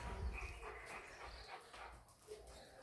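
Large dogs kept as family pets make soft whimpering and whining sounds near a home, brief and moderately faint, with light household background noise.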